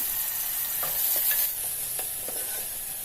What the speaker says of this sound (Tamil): இப்போ 2 தக்காளி கூடவே கொஞ்சம் உப்பு சேர்த்துட்டு நல்லா வதக்கிக்கலாம்